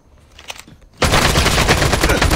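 An opponent's gun in a shooter video game opens up in a sudden loud stream of rapid automatic fire after a quieter moment, continuing steadily to the end.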